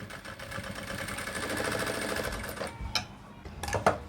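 An electric sewing machine stitches a folded quarter-inch seam on a child's shirt with a fast, humming whir, then slows and stops. A few short bursts of stitching follow.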